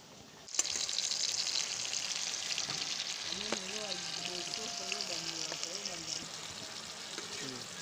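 Onions and tomatoes frying in a pan for a sauce, a loud continuous sizzle that starts abruptly as the food hits the hot oil, with a voice talking over it partway through.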